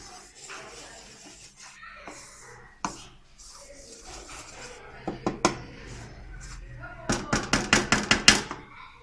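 Roasted flour and flax seeds stirred together in a pan, with scattered scraping rubs followed by a quickening run of sharp spoon-on-pan knocks, close and fairly quiet.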